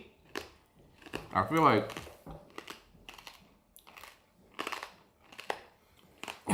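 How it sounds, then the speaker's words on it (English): Close, loud crunching of crunchy food being chewed in irregular bursts, with one heavy crackling bite early, while a person speaks briefly. "people chewing, it's so loud."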